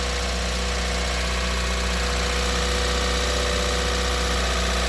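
A Nissan Figaro's engine holds a fast idle while warming up, a loud, steady, unbroken hum with constant vibration, heard up close and alone.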